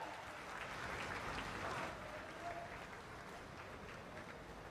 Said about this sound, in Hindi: एक बार जोरदार तालियों के साथ अभिवादन